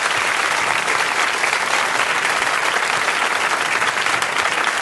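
Studio audience applause in a Turkish broadcast, steady dense clapping throughout, loud and close, with no talk over it.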